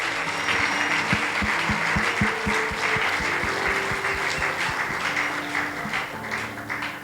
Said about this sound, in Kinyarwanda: tumukomerere Imana amashyi.